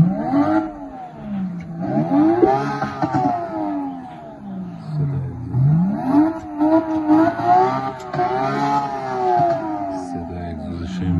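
A Porsche 935 race car engine revs repeatedly up and down in a museum setting, its exhaust note climbing and falling in wavering sweeps at close range with no talk over it.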